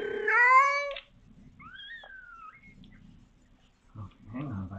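A kitten meows loudly in complaint while being weighed: one long whiny meow, then quieter squeaky cries and rustling, alone without talk.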